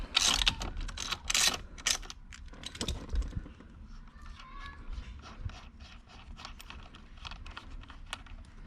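A 19 mm socket ratchet works on the steering wheel bolt of a 2012 Nissan Sentra, with rapid close clicking bursts early on and then lighter, scattered clicks and faint handling noise.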